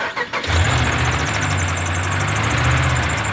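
A Dodge car engine cranks briefly and catches, settling at once into a loud, steady close-up idle with a faint high whine riding over the rumble.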